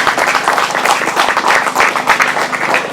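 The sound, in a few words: crowd applause for the grasstrack race organisers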